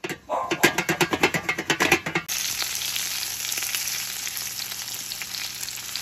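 Morels, called dry land fish, fry in hot oil with a brief run of rhythmic sizzling pops, then settle into a soft, continuous hiss close by.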